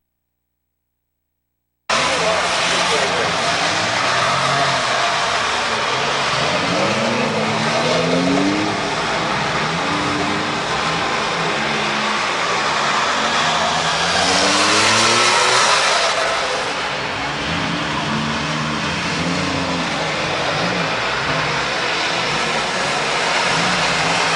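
Race cars roar around the track at Midvale Speedway during a night of destruction event, engines droning and revving continuously as cars pass, with one louder pass swelling midway, all heard from a distance.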